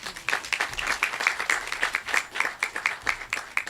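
Audience applause at a ribbon-cutting event, a steady crowd clapping close by for several seconds with no talk over it.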